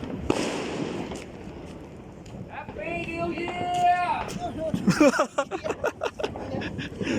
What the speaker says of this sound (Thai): มีเขาจุดพลุเขาตรงนู้นเปล่า